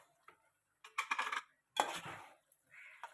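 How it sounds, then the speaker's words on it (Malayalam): Boiled tapioca, cooked with salt and turmeric, is stirred in a pot in a few short, quiet bursts of scraping and clinking utensil contact separated by silence. "ഇതിലേക്ക് നമുക്ക് ഇളക്കി ചേർക്കാം."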